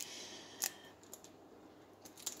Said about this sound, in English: going to cut off the end pieces here